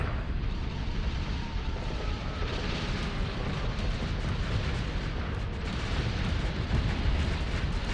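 Missiles firing and exploding in the Starsector space combat game, a dense, continuous roar of blasts and bursts at steady high loudness throughout, with no distinct gaps.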